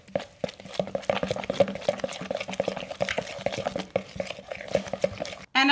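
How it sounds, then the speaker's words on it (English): Spoon stirring an egg mixture thickened with coconut flour and baking powder in a bowl, a steady rhythmic scraping and sloshing close up that runs the whole time with no talking. "you're going to stir until well combined"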